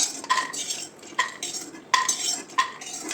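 Roasted almonds scraped and lifted out of a pan with a metal spoon, giving four sharp clinks and scrapes spaced through a quiet kitchen, with no talking.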